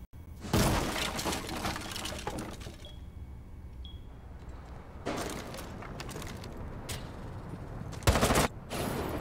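Bursts of video game gunfire crack and rattle in short clusters with quiet gaps between, a loud volley at the start, another midway and a sharp burst near the end.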